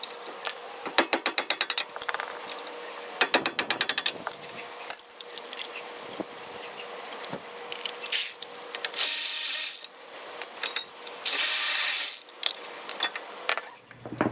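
A hand ratchet works loose the two brake caliper mount bolts on a 2012 Nissan Frontier front brake, giving bursts of fast metallic clicking, a few clanks of tools and parts, and some longer steady whirring passages, close-up with no talking.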